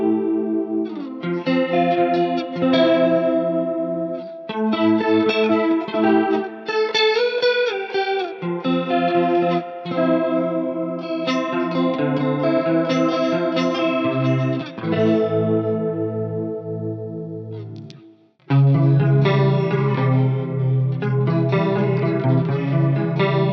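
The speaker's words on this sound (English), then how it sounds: "And that chorus effect sounds like this." Electric guitar through a pitch-shifting pedal set for a shimmering chorus effect, playing sustained chords and melodic lines steadily and loudly for over twenty seconds, with a brief drop near the end before a full strummed return.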